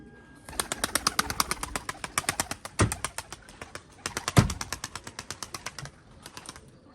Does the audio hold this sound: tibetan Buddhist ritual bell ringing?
no